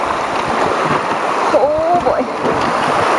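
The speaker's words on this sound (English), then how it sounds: "Choppy water, specifically." A canoe moving through choppy river water, with a steady broadband wash of splashing and churning close by, a person speaking briefly over it.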